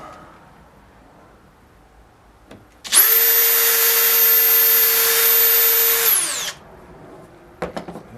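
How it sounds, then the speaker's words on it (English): A power drill bores a hole into a wooden stool leg, running loud and steady for about three seconds before spinning down, with faint handling knocks before and after. "drill a hole."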